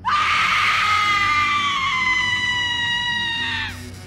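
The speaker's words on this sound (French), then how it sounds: "Quentin entend quelqu'un crier." A single long, loud scream rings out, sustained and slowly falling in pitch before cutting off abruptly.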